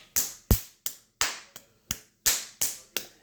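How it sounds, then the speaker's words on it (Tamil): A person claps hands loudly, about nine sharp, evenly spaced slaps over three seconds, close and alone with no talking. "சத்தமாக தட்ட வேணும்."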